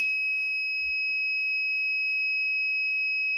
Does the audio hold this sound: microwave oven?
no